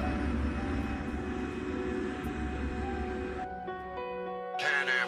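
A KLM airliner sits on the runway before takeoff, its jet engines giving a steady broad roar with a high whine that drops away partway through, leaving lower tonal hums and a brief burst at the end.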